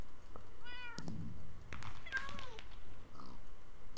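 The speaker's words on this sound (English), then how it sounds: "Just all the meowing." Minecraft cat meowing several times in quick succession, clear and close, with game sounds and a few sharp clicks around the calls.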